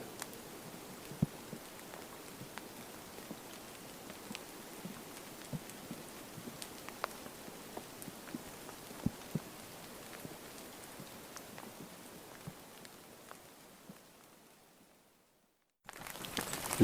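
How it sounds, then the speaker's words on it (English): Light drizzle falling in quiet woods, a faint, soft hiss dotted with scattered individual drops tapping nearby surfaces, fading briefly near the end. "Although it's not heavy, it's certainly drizzly."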